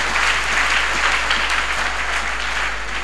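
A church congregation claps steadily, a dense, even wash of applause that fills the room for a few seconds without letting up.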